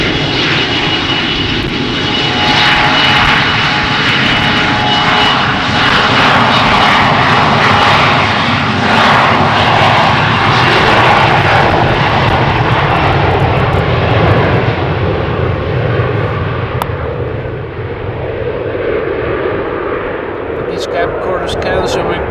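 Delta Airbus A330 jet engines roaring during an aborted takeoff at Schiphol Airport, heard from beside the runway; a loud, sustained broadband roar that stays steady for most of the stretch and then eases slightly toward the end.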